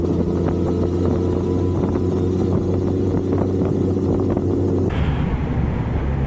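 A Suzuki GSX-S1000 motorcycle is ridden, its engine droning steadily under wind rush, then the tone shifts abruptly as it changes gear partway through.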